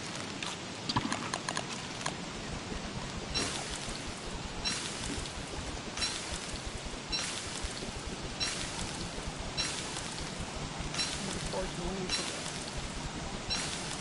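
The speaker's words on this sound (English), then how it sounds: "Rain. All right, it's definitely spring." Rain falls in the Don't Starve Giants video game, a steady patter with a recurring rhythmic clopping layered on top, continuing without talk for the full stretch.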